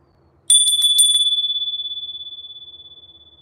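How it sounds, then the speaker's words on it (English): A bell rings close and loud in a quick burst of about four strikes, then a single bright tone rings on and slowly decays for several seconds in a quiet room. "I'm going to ring the bell"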